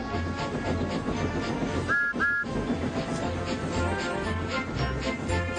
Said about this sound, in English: Beep, beep. Good morning, Percy, he whistled